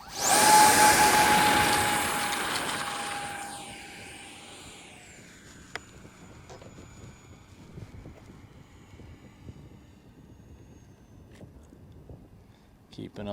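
An Arrows 50mm EDF RC jet roars past loudly with a high whining fan, then recedes into a fading, distant whoosh and hiss under wind noise.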